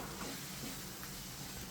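Gongura chutney being stirred together with fried red chillies in a pan, giving a steady, faint sizzling and soft scraping texture throughout with no talking.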